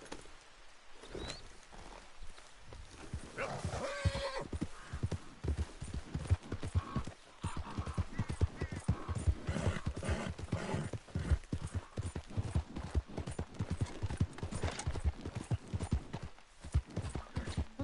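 Horse hooves in Red Dead Redemption 2, a rapid, regular clip-clop of galloping steps pounding steadily throughout, fairly close and loud, with a brief whinny-like tone early on.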